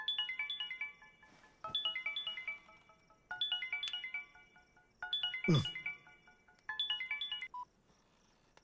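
A phone ringtone for an incoming call in a Hindi movie repeats a bright melodic chiming phrase about five times in steady cycles, with a brief whoosh partway through and faint background beneath.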